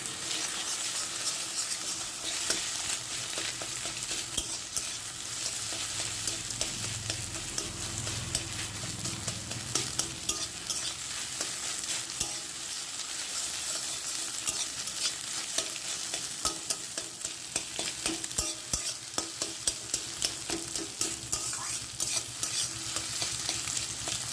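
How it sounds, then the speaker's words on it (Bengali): Eggs fry and get stirred in a little mustard oil in a pan for scrambled egg, giving a steady sizzle with scraping stirring sounds throughout and no talking. "ডিম দুটোকে আমি ভুজিয়া বানিয়ে নেবো তার জন্য একটুখানি সর্ষে তেল দিয়েছি"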